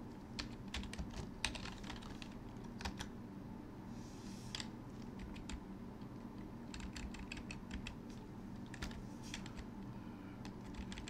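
Typing on a computer keyboard while setting up a Raspberry Pi 3 IR blaster, with faint irregular key clicks in scattered bursts over a low background hum and no speech.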